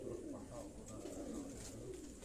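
Pigeons from a breeder's flying flock coo softly and steadily throughout, a continuous low murmur of overlapping calls with no talking.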